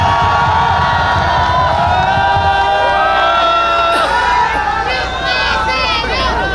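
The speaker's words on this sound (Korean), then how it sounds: "여러분 큰 박수 맞으십시오" A crowd at an outdoor political gathering in Yeouido cheers and claps loudly and continuously, with shouting voices and babble layered over the sustained noise.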